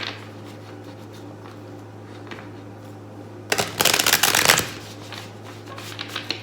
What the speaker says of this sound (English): Good hard shuffle.